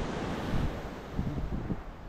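Strong wind gusting at Saebaji beach on Gadeokdo, a loud, continuous rumbling roar buffeting the microphone, with no voices.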